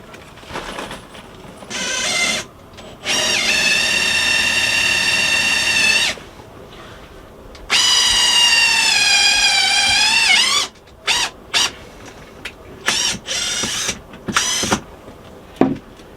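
A power drill drives self-drilling screws into steel inside a bus, with two long loud whirring runs that rise and strain, followed by several short bursts of the drill near the end.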